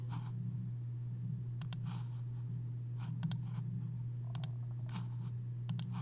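Computer mouse clicking while working in a design program, sharp double clicks in a few spaced bursts over a low steady hum, quiet and close.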